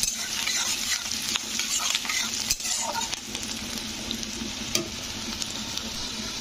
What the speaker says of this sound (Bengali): পেঁয়াজটাকে ভালো করে ভেজে নেব, একটু লাল করে ভাজতে হবে পেঁয়াজটাকে।